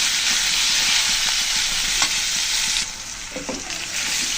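Prawns and potato pieces fry in a pan, a steady loud sizzle running throughout with scattered scraping stirs and small pops; the hiss eases slightly in the last second or so.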